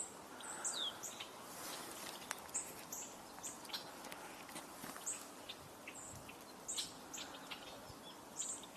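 Outdoors on a walk with light rain, a white-throated sparrow sings in a few short, high bursts of thin notes, faint and somewhat distant over soft footsteps and patter.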